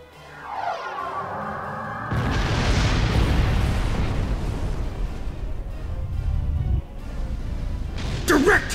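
Cannon fire and explosions in the Star Trek Online space combat tutorial: a quiet opening with voices, then a sudden loud broadband blast at about two seconds that rumbles on heavily, easing near seven seconds, with a short bright burst at the end.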